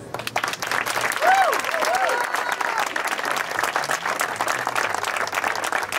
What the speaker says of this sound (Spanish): quiero por favor un aplauso para el artista